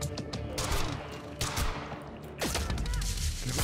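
Scattered gunshots and impacts in the action shooter Quantum Break, a busy, continuous mix of cracks and bangs at moderate level with no clear pauses.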